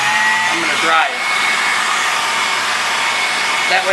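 A handheld hair dryer blows steadily and loudly on a freshly coated wooden heart craft piece, a continuous close whoosh of air across the whole stretch with a faint brief voice near the end.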